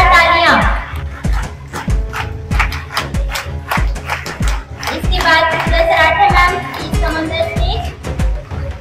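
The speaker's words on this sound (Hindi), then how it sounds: "जोरदार तालियां।" At a school Teachers' Day program, a crowd claps in loud, rhythmic bursts with steady beats, mixed with lively voices and children's chatter.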